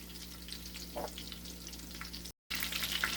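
Beer battered cod sizzling in a frying pan, a steady close crackle of hot oil with a brief dropout partway through, no voices over it.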